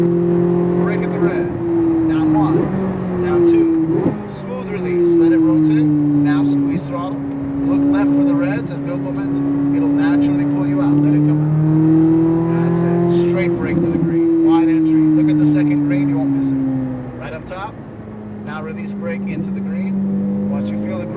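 A Chevrolet Corvette Z06 engine accelerates hard around a race track, its loud, close drone climbing and dropping through repeated gear changes, while people talk over it throughout.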